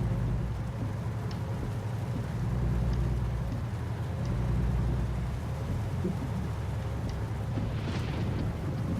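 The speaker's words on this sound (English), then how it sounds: "Vegas does get rain like this occasionally." Steady rain in the American Truck Simulator video game, falling during a drive near Las Vegas, a continuous broadband hiss over a low engine rumble that runs through the whole stretch at even loudness.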